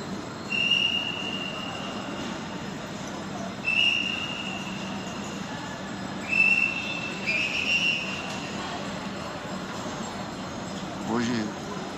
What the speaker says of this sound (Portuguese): Hoje encostou dois trens, tá vendo?